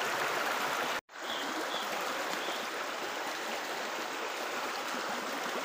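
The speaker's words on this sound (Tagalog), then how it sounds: "Yan o, lakas baha." Strong floodwater rushes past in a loud, steady broadband roar, close and continuous, briefly cut by a sharp dropout near the start before the torrent resumes unchanged.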